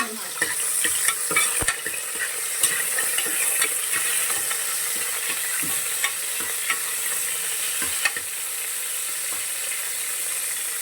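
Onions frying in hot oil for a fresh field bean (avarekalu) sambar, a steady close sizzle with scattered clinks and scrapes of stirring, and no talk.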